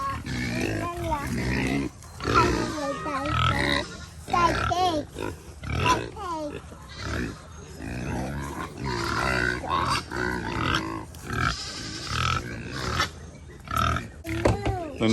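A pig grunts repeatedly in a farmyard alongside a livestock dog, the snorts close and uneven beneath people talking.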